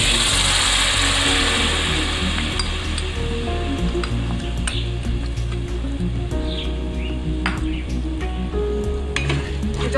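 Rice flour mixture made with jaggery sizzles steadily in a kadai as it is stirred, with frequent clinks and scrapes of the spoon against the pan over a constant frying hiss.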